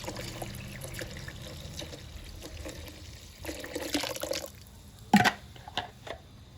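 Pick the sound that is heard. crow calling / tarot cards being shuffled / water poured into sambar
water poured into sambar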